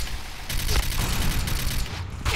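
Gunfire from a weapon in the video game Point Blank, fired in three-round bursts: dense, loud clusters of rapid shots with mechanical clatter, continuing almost without pause, while a voice talks over it.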